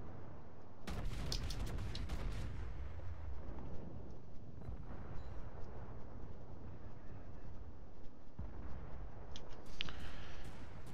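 Heavy naval gunfire from a warship video game, a loud burst of booming cannon blasts opening the stretch, a rumbling din of distant shots and explosions throughout, and another sharp volley near the end.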